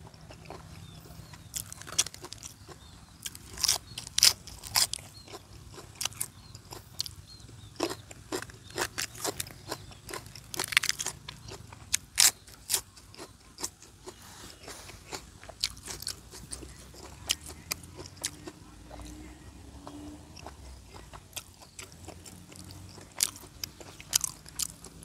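Crunchy grilled large intestine sausage stuffed with egg is chewed and bitten close up, giving irregular sharp crunches and soft chewing sounds against a quiet background.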